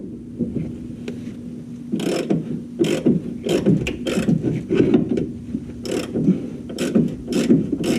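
A wrench tightens the rear alignment adjuster on a fourth-generation Chevrolet Camaro, making a close series of sharp ratcheting clicks and metallic taps in short rhythmic bursts over a low steady hum.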